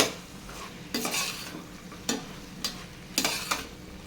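Biryani masala is stirred into a frying mixture in a pan: a soft continuous sizzle under several distinct scraping spoon strokes spaced about a second apart.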